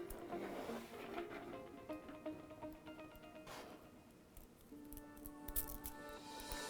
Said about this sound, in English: Cut the excess off, put it aside.